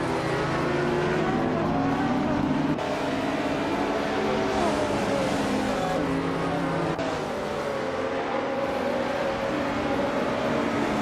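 A 1993 Ford Mustang SVT Cobra races in a video game, its engine droning loudly and steadily throughout with shifting pitch as it revs, amid other cars in a tight pack, with no talk.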